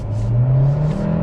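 A 2026 Kia Sportage Hybrid with a 1.6-liter turbocharged engine accelerating, a steady low engine drone rising slightly in pitch, heard close from inside the cabin with no talking.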